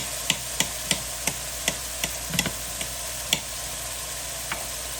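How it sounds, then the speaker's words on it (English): Knife slicing through mushrooms onto a cutting board, a regular series of crisp taps about every third of a second, close and clear over a low background hum, then slowing to a couple of final cuts. "I'm going to slice these."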